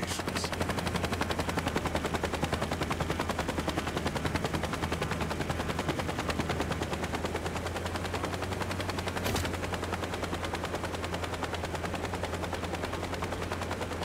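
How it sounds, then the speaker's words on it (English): Helicopter flying in the video game Saints Row, a steady, rapid rotor chop under a continuous engine drone, loud and close, with a couple of brief sharp knocks. "helicopter's equipped with a pack, strong enough to pick up Gordy's car"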